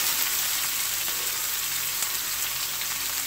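A small, finely chopped onion fries in a pan with a steady, even sizzle that stays close and constant throughout, with no voices.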